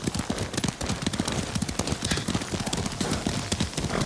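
A horse's hooves clip-clop in a fast, steady gait while it is ridden in the video game Ghost of Tsushima, close and continuous across the whole stretch.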